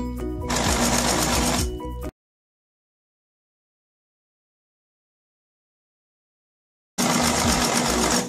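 A sewing machine stitches a hidden zipper. It runs in two loud, steady bursts of rapid mechanical whirring, with a stretch of silence between them.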